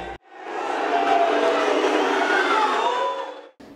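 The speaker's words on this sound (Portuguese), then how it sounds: "a torcida ficou na bronca com o time e com o treinador" A football crowd at Arena Batistão in Sergipe, displeased with the team and coach at half-time, makes a loud, sustained roar of shouts and jeers that swells in and holds for about three seconds.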